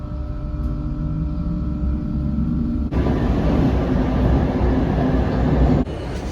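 Steady low rumble inside a train heading toward Paris, loud and continuous, with a sudden jump to a harsher, louder roar midway, then a drop back near the end.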